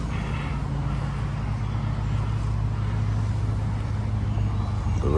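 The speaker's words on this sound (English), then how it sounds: "Cars will pass by and such." Cars passing on a road beside a garden: a steady, distant low traffic rumble that carries on throughout, with no talking.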